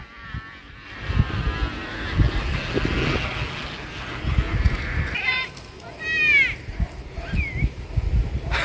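A sumba hummer on a flying Lawin kite gives a steady airplane-like drone, moderately loud, under people talking and outdoor noise.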